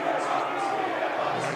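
Crowd at a high school boys basketball game between Camdenton and Osage reacts to a foul with a steady, dense roar that holds loud and even throughout.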